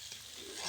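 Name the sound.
stirring and frying meat curry in a pan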